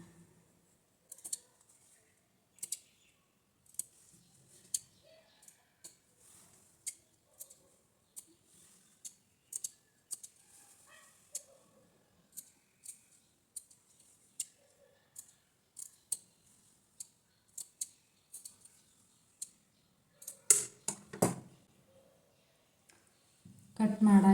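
Scissors snip through blouse fabric in a long run of quick, crisp clicks and light cuts, close and fairly quiet, with a voice speaking briefly near the end.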